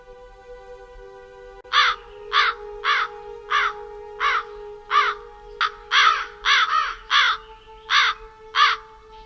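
A raven caws repeatedly in a steady series of about a dozen harsh, rhythmic calls, clear and fairly close over a faint sustained tone.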